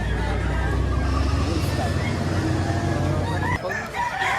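A rooster crows amid a noisy crowd at a chicken market in Batangas province, Philippines, the call rising over steady babble and low rumble.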